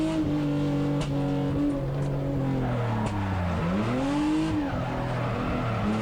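A Hyundai Genesis Coupe drifts around a track with a steady, loud engine drone that rises and falls with throttle, tires squealing continuously over it, with no voices.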